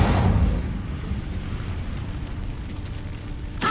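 A fiery Incendio spell cast in Hogwarts Legacy: a loud, sustained roaring blast of flame that swells at the start, holds steady and ends with a brief crackling burst.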